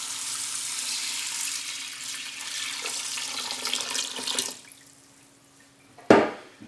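Water runs steadily into an Instant Pot holding dry brown rice, a bright splashing hiss for about four seconds that then stops, followed by a sharp single clunk.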